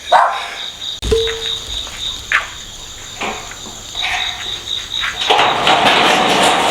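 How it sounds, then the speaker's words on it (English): Dogs bark at night somewhere in Ha Giang, a few scattered distant barks rising over a steady, loud chorus of crickets, with no voices. "There's another dog who's set off barking."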